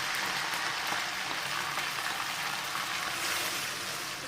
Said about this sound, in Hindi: इसको निकाल के तो फिर हम इसमें प्याज डालते हैं